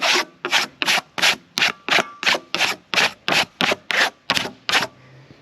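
Warped, freshly cut hickory boards are scraped in about fourteen quick, evenly spaced strokes, each a sharp, rasping rub close by with short pauses between.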